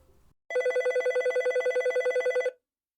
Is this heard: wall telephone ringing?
yes